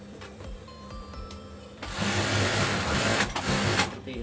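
A sewing machine stitches a torn bed cover along an old seam, starting with slow, spaced ticks before bursting into a fast, loud, steady whir of needle strokes, heard alone.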